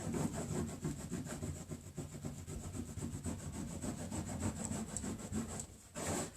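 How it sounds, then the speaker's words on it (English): A scraper rasping wording off a DIY wooden growth chart, a steady run of close, scratchy back-and-forth strokes with a short pause near the end before scraping resumes, no voices. "So I'm just going to take my scraper and scrape this wording."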